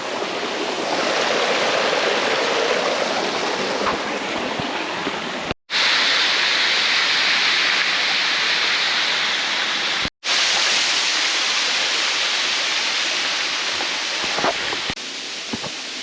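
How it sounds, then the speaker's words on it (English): Waterfall on the Ka'au Crater hike in Hawaii, a loud, continuous rushing roar of falling water heard up close, with two brief cuts in the sound and no talking. "There's the waterfall I was just under."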